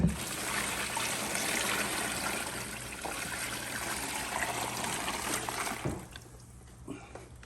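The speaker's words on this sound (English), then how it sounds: "We're gonna go ahead and pour this right on top of the bird." Brine pours steadily over a whole turkey in a continuous trickling stream, fairly close, then cuts off near the end, leaving a quieter room tone.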